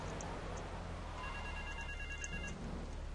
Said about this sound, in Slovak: Kde je ten pritrtkaný telefón?